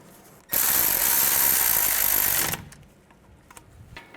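A power tool or ratchet runs in a single two-second burst as the wheel speed sensor bolt goes in on a 2007-12 Nissan Altima front hub, then a few faint clicks and handling noises follow.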